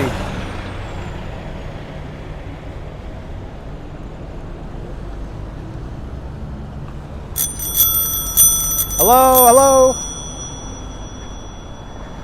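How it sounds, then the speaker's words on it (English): A bicycle bell rings rapidly several times in a short burst on a busy New York City street after Tropical Storm Ida, cutting through steady traffic rumble, with a brief spoken greeting. "Like spamming my bell like 6-7 times, didn't get her attention."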